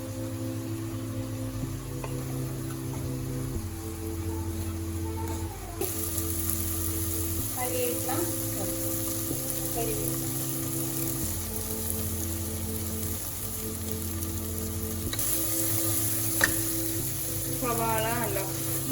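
Sliced onions sautéing in a pan for a pressure cooker mutton curry, a soft continuous sizzle under a steady humming background, with occasional stirring scrapes.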